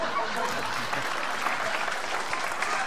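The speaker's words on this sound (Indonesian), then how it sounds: "William, William, tepuk tangan tuh William" Studio audience applause fills a comedy elimination show, a dense, continuous clatter of many hands at steady loudness with voices mixed faintly into the crowd noise.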